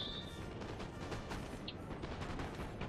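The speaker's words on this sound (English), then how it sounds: "they're both shooting into the ground" Musket volleys in the video game Napoleon Total War, a dense rolling crackle of distant gunfire with scattered sharper shots over a continuous battle din.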